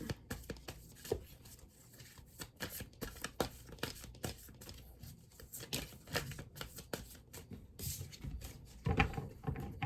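Steady riffle and flicking of tarot cards being shuffled, quick papery snaps repeating close up with no one talking.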